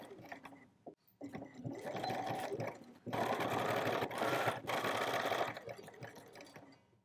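Sewing machine back stitching elastic shirring thread on fabric, close-up motor whirring in bursts of stitching that start, pause and speed up, with a longer loud run in the middle; no talk.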